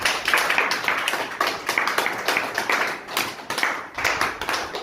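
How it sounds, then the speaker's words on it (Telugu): People at an ashram clap together for a couple's wedding anniversary, a moderately loud, uneven patter of hands with pulsing surges, continuing for nearly five seconds without talk. "అందరూ ఒకసారి క్లాప్స్ కొట్టండి"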